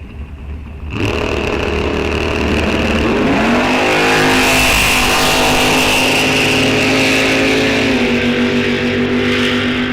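Drag racers, a Chevelle against a Firebird, launch at Rock Falls Raceway's test-and-tune night. A sudden loud engine roar bursts in after about a second and stays full and sustained, its pitch rising through the run with no talk.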